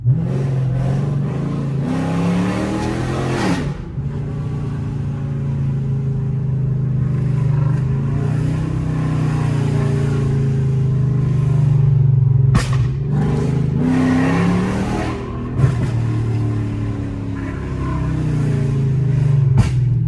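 A tuned Chrysler 300 with a 5.7 Hemi V8 on a stage 2 flame and burble tune revs loudly and close by, the deep exhaust rising and falling through repeated throttle blips with crackles between pulls, with no talking.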